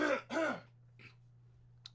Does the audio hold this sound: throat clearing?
yes